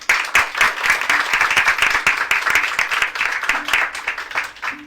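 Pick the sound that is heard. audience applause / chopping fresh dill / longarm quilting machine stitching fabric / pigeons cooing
audience applause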